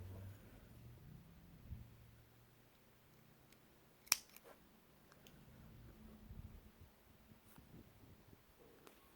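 Scissors cutting crochet thread: a single crisp snip midway through an otherwise quiet, still stretch, with no talking.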